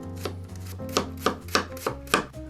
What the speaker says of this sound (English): We're going to start with slicing our onions really nice and thin.